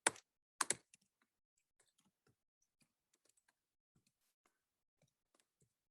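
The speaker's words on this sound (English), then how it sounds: "you're going to start typing this" Soft keystrokes on a computer keyboard, a couple of louder clacks at the start followed by sparse, faint, irregular taps in a quiet room.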